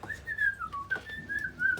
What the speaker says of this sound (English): he moves into the frame whistling